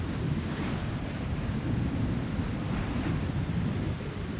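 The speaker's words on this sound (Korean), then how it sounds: "칠선 계곡은 가파른 경사 때문에 유속이 빠르고 크고 작은 폭포수가 많다" Loud, steady rushing of a fast, steep mountain stream and waterfalls in a Jirisan valley, South Korea, a continuous dense roar with no voices.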